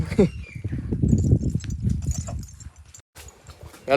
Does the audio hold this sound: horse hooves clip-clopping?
yes